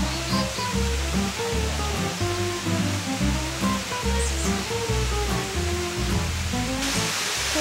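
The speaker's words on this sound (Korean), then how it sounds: "여기 폭포 소리만 들어도 너무 힐링되는 느낌이에요" Roaring rush of Suokpokpo waterfall in a Korean mountain valley, a dense, constant broadband crash of falling water heard close and loud, with no talking.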